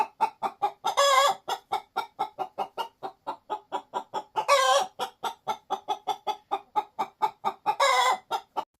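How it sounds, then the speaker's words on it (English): Hens cluck in a steady, rapid rhythm of short notes, with three louder drawn-out squawks rising above the chatter, close and clear. "each hen has their own unique sound"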